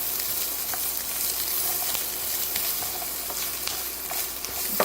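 Chopped garlic and thyme sprigs sizzling in a pan while being stirred, a steady close frying hiss with soft scraping taps of the utensil scattered through it.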